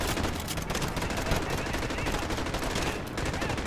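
Rapid automatic gunfire in Call of Duty: Modern Warfare, dense continuous bursts at moderate level with a brief dip near the end.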